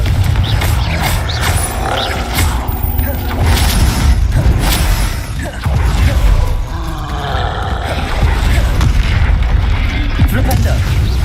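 A Confringo spell explosion in Hogwarts Legacy lands amid loud, continuous combat, with heavy booming blasts and mechanical rumble filling the whole stretch.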